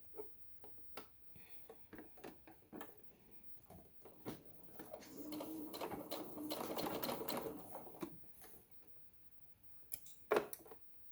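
A sewing machine stitches a tote bag seam, starting with several short tapping bursts, then running steadily for a few seconds before stopping, with another brief burst near the end. It is close and fairly quiet, with no talking.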